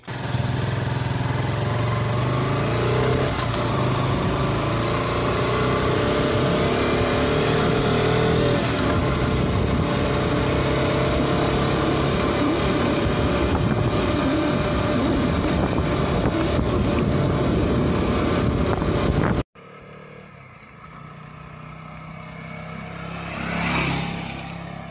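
A KTM RC 125 motorcycle being ridden, a steady loud engine drone under heavy wind rush for most of the stretch, cutting to a quieter engine hum near the end.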